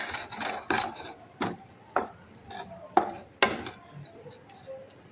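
A spoon scrapes and stirs chira pulao (flattened rice) in a pan. Several distinct scraping strokes arrive at an irregular pace, each close and fairly crisp, with no voices.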